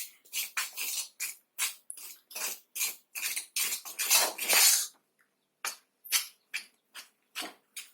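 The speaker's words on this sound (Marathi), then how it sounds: "त्या मिश्रणाला सारखं हलवायचं आहे" A besan barfi mixture is stirred in a pan with a metal spoon, making rapid rhythmic scraping and clinking strokes close up, with a short pause before the strokes resume.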